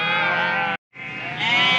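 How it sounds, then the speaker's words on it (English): Mountain sheep bred for the Wicklow uplands bleat loudly and close by: one long wavering bleat, a brief pause, then a second sustained call. "the sheep that are actually here on the mountain now, they're bred for the mountain"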